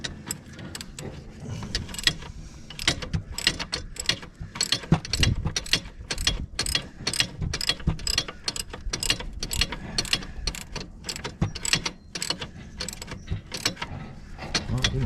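A ratchet tightens the chain adjuster nuts on a Honda 200 M three-wheeler, giving quick rhythmic metallic clicks in short repeated bursts close by, with light clanks between strokes.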